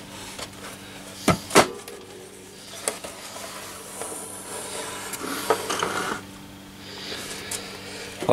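A small plastic side door panel on a Sony CRF V21 television being opened during a no-power repair: a few sharp clicks and snaps with faint scraping and handling noise in between, close up and without speech.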